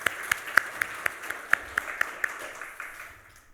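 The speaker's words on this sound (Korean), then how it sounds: "위로와 격려의 박수 한 번 더 하겠습니다" A church congregation claps for the choir in a rhythmic unison beat, about a dozen distinct evenly spaced claps that fade out near the end, fairly quiet in a reverberant room.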